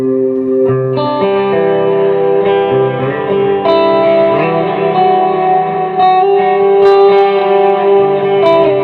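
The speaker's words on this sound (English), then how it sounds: "My next one is my delay channel, which is I've got my Centura and my timeline, and then a little bit of reverb with the Big Sky." Electric guitar played through a delay channel, a Centura overdrive and Timeline delay with a touch of Big Sky reverb, in a worship rig; sustained chords ring out with echoing repeats and a smooth wash of reverb, steady and full throughout.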